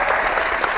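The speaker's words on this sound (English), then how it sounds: "You get a big clap right here" Applause from a small group on a tennis podcast, a dense steady burst of clapping lasting under a second at close range.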